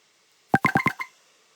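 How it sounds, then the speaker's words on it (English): LINE app notification chime from a new-user registration alert, a quick run of five bright melodic tones lasting about half a second, clean and close with no voices. "And then you will see like the line notification with the sound"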